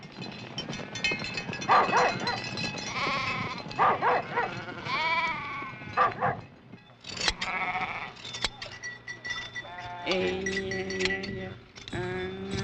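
Navajo-herded sheep bleat repeatedly over a busy outdoor flock, near and fairly loud, with overlapping calls and some dog-like barks mixed in.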